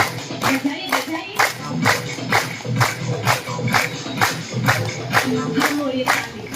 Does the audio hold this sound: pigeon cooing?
no